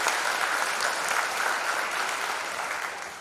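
A crowd at a 2021 graduation ceremony applauds steadily, a dense wash of clapping that holds strong and then gradually tapers off.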